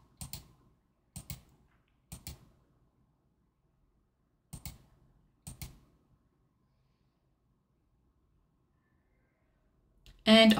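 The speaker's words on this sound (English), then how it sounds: "I'll start off by typing the days of the week." Bursts of typing on a computer keyboard, several short clusters of key clicks separated by pauses in a quiet room, with a louder different sound at the very end.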